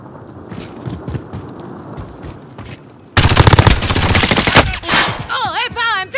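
Rapid automatic gunfire rips through a Call of Duty Modern Warfare match, starting after quieter scattered shots and footsteps, then a sustained loud burst of machine-gun fire followed by whizzing, warbling effects.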